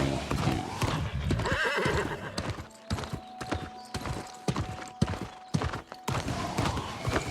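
Horse hooves clip-clop in a steady rhythm while the horse neighs and whinnies in New World: Aeternum, fairly close and loud, with no talking.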